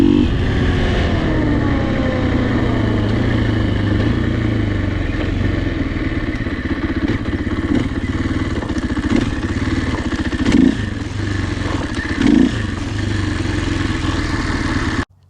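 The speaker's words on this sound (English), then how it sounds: "You can see me just blooping it right off the gas in first gear, grabbing the brake, doing it again." KTM 500 EXC-F four-stroke dirt bike, 2024-2026 model, idling and having its throttle blipped in first gear with the brake grabbed: a loud, close, steady thumping engine note broken by several quick revs that rise and fall back to idle, no voices.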